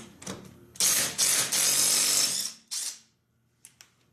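DeWalt cordless 3/8-inch impact driver loosening lug nuts torqued to about 80 foot-pounds: loud, close bursts of rapid hammering, two long runs and a short one, then a couple of faint clicks.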